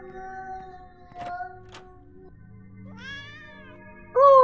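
Cats meow in the video game Yuppie Psycho, a few tonal calls over a quiet musical backdrop, with a louder, closer meow bursting in at the end.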